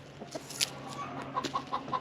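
A rooster on a small farm gives soft, repeated clucks to call hens over to food, a few quick low calls near the end over faint outdoor background noise, quiet and close.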